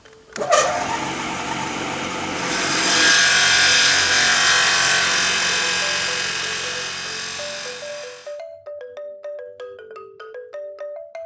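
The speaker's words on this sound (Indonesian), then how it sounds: "Membelah papan dengan ukuran 17 cm menggunakan gergaji lingkar meja" A table circular saw rips a wooden board 17 cm wide, a loud whining cut that swells then stops, leaving the blade spinning down into a series of ringing taps and knocks.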